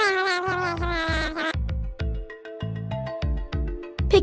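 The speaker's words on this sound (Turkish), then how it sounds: "Aa, telefonuna bir mesaj geldi." Cartoon phone message alert: a bright melodic chime over a bouncy music backing, several short rhythmic tone bursts repeating across the stretch, clear and close with no talking.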